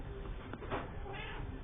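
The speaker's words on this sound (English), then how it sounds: "Meow." A single short cat meow, faint and close, with no talking.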